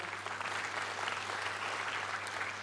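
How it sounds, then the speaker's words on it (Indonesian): An outdoor political gathering audience applauds a barongsai lion dance performance with steady, dense clapping from a sizable crowd, sustained throughout without pause. "tepuk tangan untuk barongsai kita"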